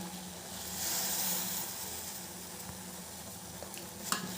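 Water at a rolling boil with a spoonful of tea leaves just added, bubbling and simmering steadily in a pot, with a few faint clinks near the end.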